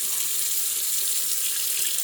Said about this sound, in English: First thing you want to do is you want to get some water going.